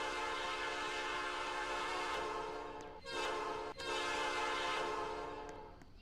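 Train horn sounding steadily at a CSX rail yard in the ProtoRO-Scale video game, a loud sustained multi-tone blast with two brief dips before trailing off.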